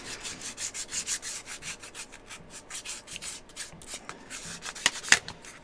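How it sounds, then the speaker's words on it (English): Steady back-and-forth rasping strokes of sandpaper on wood, close and rhythmic, with a couple of sharper scrapes near the end. "First up, as ever, sanding."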